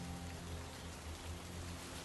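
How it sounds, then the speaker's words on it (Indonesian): Steady rain falls, a soft continuous hiss of drops with no other sounds, heard quietly. "Hujan meluncur di wajah mereka."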